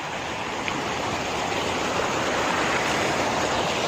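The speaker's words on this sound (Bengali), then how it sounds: "এই নদী কোথা থেকে বয়ে এসছে।" A river in Kashmir rushes steadily, a dense, even roar of flowing water that stays loud and close with no voices.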